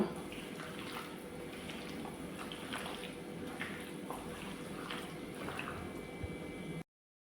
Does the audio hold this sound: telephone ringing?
no